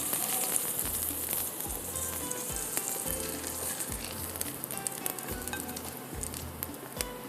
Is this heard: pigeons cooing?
no